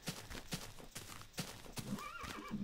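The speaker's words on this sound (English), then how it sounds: "Look at the horses." A horse in the Minecraft video game gives a quiet, wavering whinny that rises and falls near the end, after a run of soft, evenly spaced clip-clop hoofbeats.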